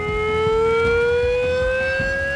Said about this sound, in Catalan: El so d'alerta de les sirenes consisteix en 3 senyals d'1 minut separat per silencis de 5